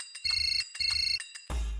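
A phone ringtone plays in two repeated electronic trilling bursts, then a louder thump or noise cuts in at the end.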